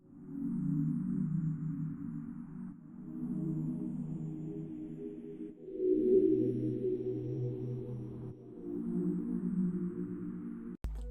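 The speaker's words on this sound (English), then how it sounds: "laid down these very simple chords with no effects," Simple dark R&B-style synth chords without effects play alone, each sustained chord held for a few seconds before changing to the next, soft and steady in a slow progression.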